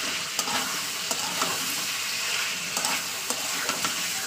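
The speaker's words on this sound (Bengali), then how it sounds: "আমি চিকেনটাকে 2 থেকে 3 মিনিট ভাজা করে নিয়েছি, আর চিকেন থেকে তেল ছেড়ে এসছে আমার" Chicken pieces frying in their own released oil in a pan, giving a dense, continuous sizzle close by with occasional light stirring taps and no talk.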